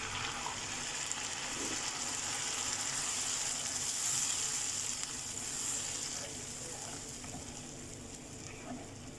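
Cooked and ground tomato paste hits a hot pan and sizzles steadily, a soft continuous hiss of frying with faint stirring noises, at low level throughout with no talking.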